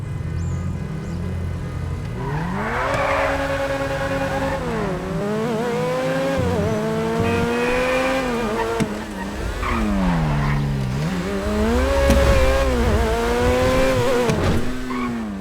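A high-revving V12 sports car engine in a video game, a Grotti Carbonizzare modelled on a Novitec Ferrari F12 N-Largo in GTA, climbs and drops through gears, loud and continuous, with tire squeal mixed in.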